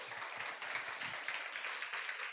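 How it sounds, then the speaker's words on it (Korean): A church youth congregation applauds during a worship service, a continuous soft wash of clapping at moderate distance, even and sustained with no pauses. "영광의 박수 올리겠습니다."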